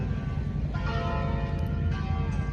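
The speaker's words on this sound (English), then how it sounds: "The church bells as well here" Church bells ring out across Venice, Italy, a rich sustained peal of overlapping tones with fresh strikes layered over a steady low rumble of the surroundings.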